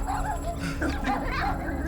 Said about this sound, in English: Cosmo's puppies.